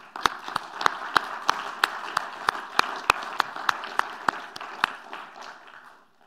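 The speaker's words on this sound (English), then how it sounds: "I think we have to applaud them strongly." Applause during a closing talk, heard as a single distinct clap repeating at a steady, regular beat over a faint crowd background, fading out after about six seconds.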